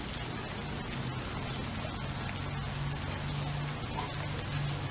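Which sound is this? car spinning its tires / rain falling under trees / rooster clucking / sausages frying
rain falling under trees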